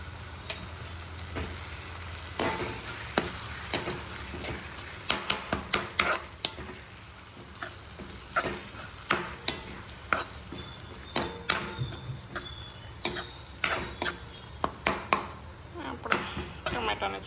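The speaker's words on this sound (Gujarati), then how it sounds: "ડુંગળી મસ્ત ચડી ગઈ છે. હવે એમાં નાખી દઈએ ટમેટા." Tomatoes added to softened onions sizzle in a pan at home while a utensil stirs and clinks against the metal in quick, irregular strikes, loud against a soft, steady frying hiss.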